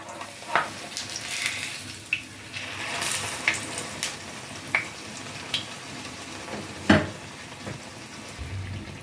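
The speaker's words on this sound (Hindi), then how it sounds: "ये मालपुए फ्राई हो गए हैं अच्छे से, दोनों ही साइड से ये इक्वली फ्राई हो गए हैं" Malpua batter frying in a pan of hot oil, a steady close sizzle broken by scattered sharp pops and crackles, with no voices.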